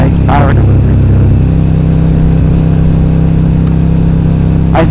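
2011 KTM RC8R V-twin sport bike with an Akrapovic exhaust, quick shifter and slipper clutch, cruising smoothly in third gear at low speed with a steady loud engine drone as a rider talks over it.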